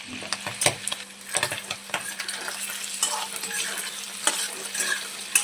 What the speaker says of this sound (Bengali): পনিরগুলো হালকা একটু ভেজে নেব।